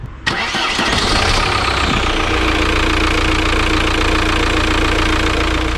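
A BMW M5 engine cranks briefly and catches, revving up loudly before settling into a steady, throbbing idle that runs close and strong to the end.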